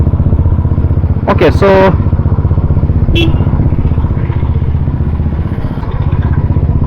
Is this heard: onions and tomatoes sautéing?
no